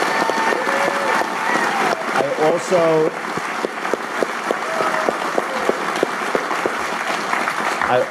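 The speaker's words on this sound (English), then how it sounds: "How about a round of applause for Peter Lynch, ladies and gentlemen?" Audience applause for Peter Lynch at a Fidelity evening event, a dense, steady roar of clapping filling the room for about eight seconds, with a brief voice cutting through partway.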